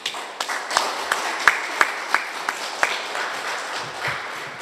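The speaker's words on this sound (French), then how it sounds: "quand même applaudir le général" A small group at a post-concert press conference claps for a general, the sparse hand claps ringing out individually in a loose, uneven rhythm before thinning out.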